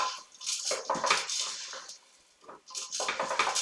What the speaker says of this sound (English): going to give that a little stir